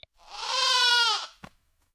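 One loud, wavering goat bleat lasting about a second, close by, followed by a brief knock.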